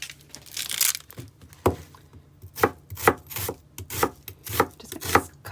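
A knife chops through an onion on a cutting board, thin slices falling in a quick run of sharp, close taps, about a dozen strokes with brief pauses between bursts, done in a small RV kitchen.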